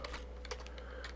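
Rapid, steady keystrokes on a computer keyboard as someone types Minecraft mod code, a dense run of clicks with a few louder taps, close by and with no talking.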